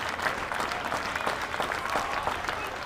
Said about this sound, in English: The crowd clapping in unison.